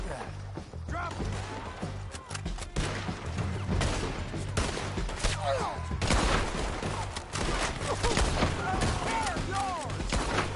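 Gunfire rings out in the video game Red Dead Redemption 2, with rapid volleys of shots, loud cracks and crashes forming a dense, continuous barrage. Voices talk under the din.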